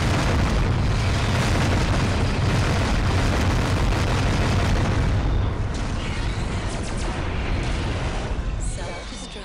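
Explosion in the first-person shooter Descent II, a dense, sustained booming rumble that roars loudly for several seconds before thinning out and fading near the end, with some game effects crackling over it.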